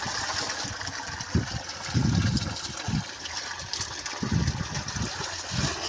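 A tube well pump engine runs steadily in a village field while water gushes and splashes, with a continuous mechanical hum and irregular low surges of flowing water, no voices.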